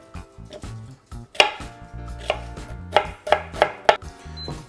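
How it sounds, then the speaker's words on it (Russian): A knife chops 140 grams of onion into small cubes on a cutting board, giving sharp, irregular taps that speed into a quick run of close, crisp strikes. "140 грамм лука нарезаем мелким кубиком"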